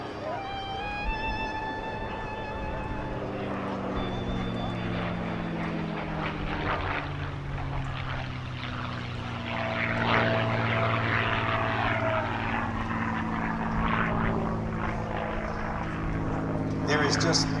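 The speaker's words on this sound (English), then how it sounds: "the sound of a piston engine, be it a radial or a V12 like we hear on the Mustang" A P-51D Mustang warbird's V12 piston engine drones steadily overhead during the Bethpage air show parade at Jones Beach, a sustained propeller roar with a rising Doppler pitch that swells louder near the end.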